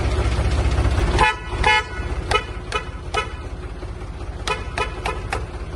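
A Mahindra Arjun Novo tractor with a 3-cylinder engine runs close by while its horn sounds in a quick series of short, sharp toots.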